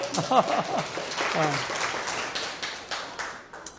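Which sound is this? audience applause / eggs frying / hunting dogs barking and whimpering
audience applause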